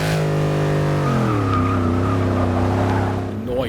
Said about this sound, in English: you need to do a burnout.